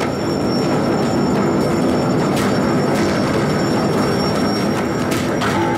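A train rolls past in the Def Jam: Fight for NY video game, a loud, steady rumble with clattering wheels and brief metallic squeals that fills the whole few seconds, with no talking over it.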